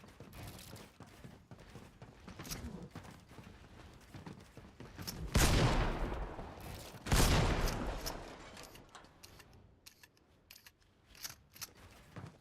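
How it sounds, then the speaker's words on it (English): Shotgun blasts ring out in Fortnite, two loud, sharp booms a couple of seconds apart among scattered clicks, footsteps and lighter shots. "Instantly shotgun shots."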